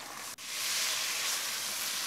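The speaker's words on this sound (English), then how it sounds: "Fry the pheasant on high heat, stirring occasionally, for at least 5 minutes." Pheasant pieces with onions frying in a pot on high heat give a loud, steady sizzle with a brief dip, then continuous hissing.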